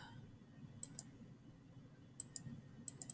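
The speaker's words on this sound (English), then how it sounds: "So I'm just clicking" Computer mouse clicks while drawing shapes in Photoshop Elements come as short sharp ticks in small clusters of two or three, crisp and close against a faint room hiss, with no talking.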